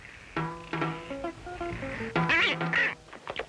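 Seabirds feeding frantically at sea over huge schools of trevally, with harsh, repeated honking calls that overlap in quick, busy bursts close by.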